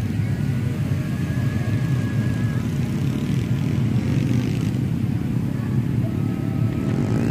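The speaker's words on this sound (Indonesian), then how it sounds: "Arming, take off, kita naik ke atas." Steady, loud buzzing whine of an MJX Bugs 16 drone's propellers lifting off on a beach at Pantai Gemah, Tulungagung, a constant motor drone with no breaks throughout.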